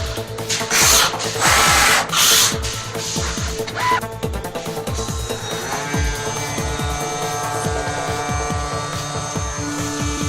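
GLASSMAN GM-BZ vertical CNC machine drilling a hole in 8 mm glass with a 16 mm countersink drill, a steady close mechanical whir with rhythmic grinding pulses and repeated short scraping strokes, running alone without talk.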